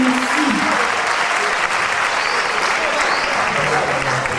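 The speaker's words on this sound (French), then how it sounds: "On peut l'applaudir bien fort" An audience at a children's show in Congo applauds loudly and continuously, a dense, even wash of clapping throughout with faint voices and shouts mixed in.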